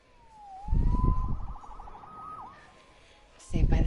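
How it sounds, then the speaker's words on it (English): A police siren wails in a Spider-Man video game, rising and falling over a few seconds, between brief bursts of in-game voices talking. "Saved by the siren."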